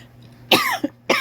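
Two short, close coughs in quick succession after a quiet moment, with a faint electrical hum underneath.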